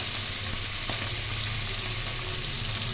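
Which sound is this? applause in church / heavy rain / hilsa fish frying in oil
hilsa fish frying in oil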